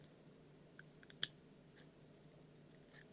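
Compact Pokémon-branded Japanese stationery scissors with a small cap and sliding lock, handled closely, give a few quiet clicks, with one sharper click standing out among faint ticks against a soft background hiss.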